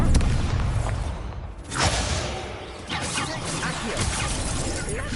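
Accio summoning spell cast in the Hogwarts Legacy video game: a burst of magical whooshing and crashing debris, a brief lull, then renewed rumbling, creaking and clattering that fill the rest of the moment at moderate loudness.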